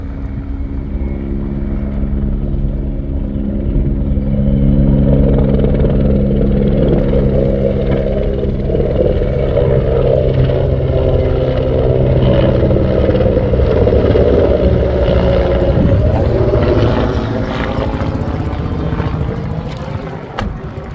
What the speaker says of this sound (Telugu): హెలికాప్టర్ వస్తా.